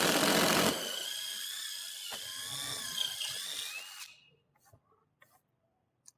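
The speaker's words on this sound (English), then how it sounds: "I will drill with a 3/8 drill bit and widen the holes for my hex bolts" A power drill with a 3/8 bit whirs steadily for about four seconds while widening holes in a wooden door, its motor whining, then winds down into quiet with a few faint clicks.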